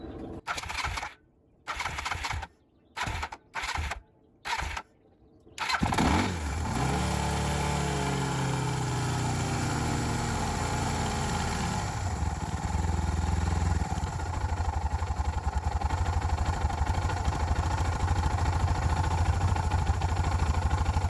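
Suzuki DR650 motorcycle after a carburetor swap: several short cranking bursts, then the single-cylinder engine fires and settles into a steady, loud idle that continues to the end, with no talk.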